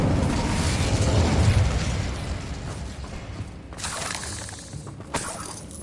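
An Incendio fire spell cast in Hogwarts Legacy: a roaring whoosh of flame that swells and then dies down, followed by a few sharp crackles and bursts.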